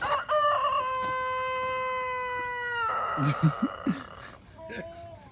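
In a farmyard kept with chickens and guinea fowl, a rooster lets out one loud, drawn-out crow close by, followed by a handful of short clucks and calls.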